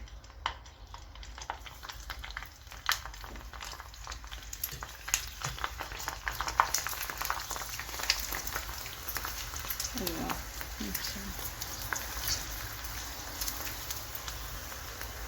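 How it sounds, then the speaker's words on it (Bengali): Vegetable samosas (singara) frying in hot oil, a steady low crackling sizzle running throughout with a few brief louder pops, fairly close and alone without talk. "চলেন এগুলো এখন ভাজি, দেখি কেমন হয়।"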